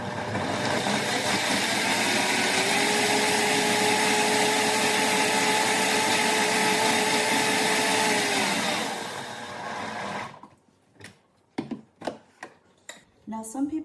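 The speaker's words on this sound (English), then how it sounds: "I'm gonna stick it on the blender by about a good maybe 20 seconds on high" A kitchen blender running on high while blending barbacoa taco sauce, a loud steady whirring roar for about nine seconds that then cuts off, followed by scattered clatter and knocks.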